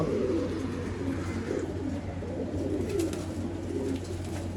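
Pigeons at a Bangalore pigeon sale give a low, continuous cooing and burbling, close and steady with no talk over it.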